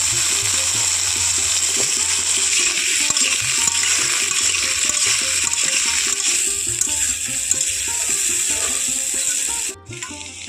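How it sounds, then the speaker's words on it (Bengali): Large cubes of potato fry in mustard oil with a continuous dense crackling sizzle close by. A brief clink comes near the end as the frying drops away. "প্রথমে আলু কয়েকটা ভেজে নেব"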